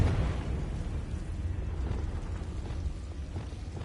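A Confringo blasting spell goes off in Hogwarts Legacy, a continuous rumbling, crackling burst with heavy low-end boom that holds steady for about four seconds.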